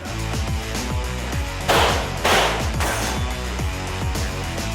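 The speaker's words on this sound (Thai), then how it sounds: "คุณลีซอจะได้ยิงปืนอะไรบ้างครับ" Rapid bursts of gunfire ring out continuously, with a few louder, heavier shots standing out; loud, close and unbroken, with no voices.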